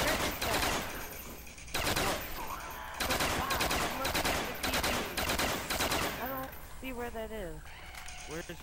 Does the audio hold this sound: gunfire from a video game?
yes